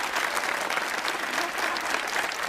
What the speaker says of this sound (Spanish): Recibamos con un caluroso aplauso a el señor director.